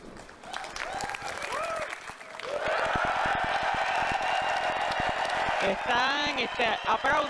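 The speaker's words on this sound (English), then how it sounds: "As you can hear, we've got a great crowd here in London." A large live crowd in London at the EA Play event breaks into loud sustained applause with cheers and whoops, while a presenter talks over it.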